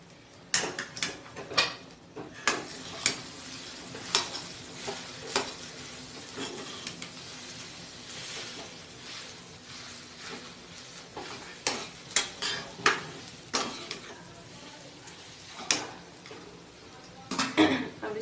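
Potatoes and spices being mixed in a pan for aloo matar kachori filling, repeated sharp spatula scrapes and taps against the pan over a soft background sizzle, fairly quiet and close.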